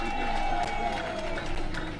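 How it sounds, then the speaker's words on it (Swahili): A crowd applauding at the launch of Universal Health Coverage in Mombasa, with steady broad clapping and some cheering throughout, while a tonal hum or background music runs underneath. "Twakupigia makofi na kongole kwa kufanya hiyo kazi nzuri."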